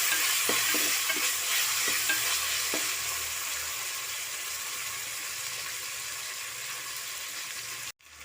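Tomatoes added to a frying pan for a lentil and bean rice dish: a loud, steady sizzle with a few light clicks of a spoon early on, fading slightly before cutting off abruptly near the end.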